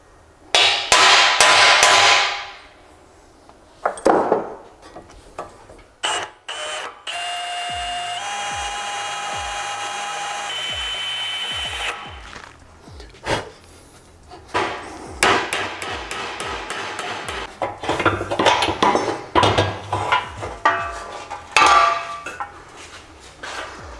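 A center punch is hammered against the spot welds on a Skyline GTR's car body during a front end conversion, giving sharp metallic strikes in bursts and rapid runs, loud and close, with a steady tonal hum in the middle.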